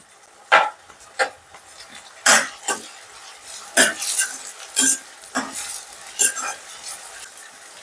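Green chillies and curry leaves fry in plenty of oil for a chicken fry, with a low, steady sizzle broken by irregular, close spatula stirs and scrapes against the pan.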